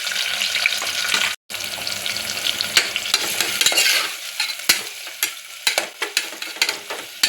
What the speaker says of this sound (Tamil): இந்த எண்ணெயிலேயே வெங்காயத்தை சேர்த்து வதக்கிக்கிறேன்.